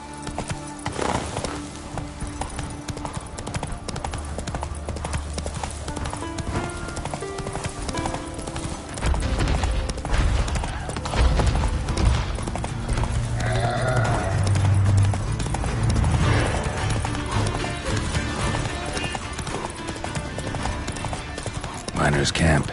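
Roach, the horse in the video game The Witcher 3, gallops with steady, loud clip-clop hoofbeats over a music and ambience bed, with a voice heard speaking.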